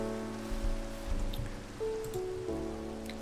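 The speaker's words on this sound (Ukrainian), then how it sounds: "Щось у мене дощ все зачав." Steady rain falls in Minecraft, a soft, even hiss running throughout beneath sustained game music tones.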